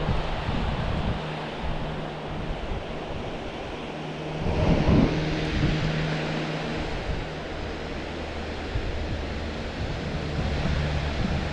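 Water waves washing against the rocky shore at Rock Island, a steady loud roar of surf mixed with wind buffeting the microphone, with a slightly stronger surge midway.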